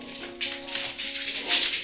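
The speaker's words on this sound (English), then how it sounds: "Don't mind the dogs." Dogs at home bark in a few quick, fairly loud yaps and whimpers over a constant tonal background hum, coming in short bursts across a couple of seconds.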